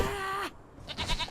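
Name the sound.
goat bleating in the video game Conan Exiles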